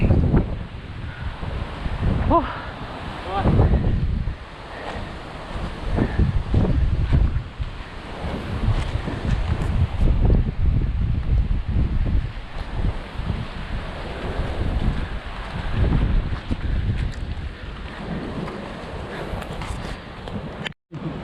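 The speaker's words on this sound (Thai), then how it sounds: "วันนี้ลมค่อนข้างแรงมากครับ" Strong gusty wind buffeting the microphone on the rocky Andaman Sea shore at Laem Maphrao during a fishing trip, with surf washing in behind a continuous roaring rush that swells and dips.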